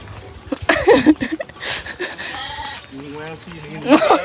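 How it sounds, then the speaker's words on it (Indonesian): Sheep bleat in several short, wavering calls near the microphone, with one at the start and another toward the end, while people talk casually in between. "Domba-domba yang tersesat."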